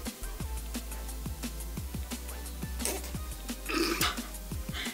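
Oiled skin on an arm squeezed and released during cupping massage gives a run of short, wet, farting-like squelches in an irregular rhythm, close and fairly quiet, with no talking.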